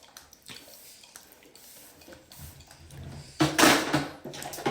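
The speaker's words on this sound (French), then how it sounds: "Elle remplit de l'eau." Water pours into a container in a quiet indoor space, starting with soft drips and light clinks, then rising to a louder gushing splash near the end.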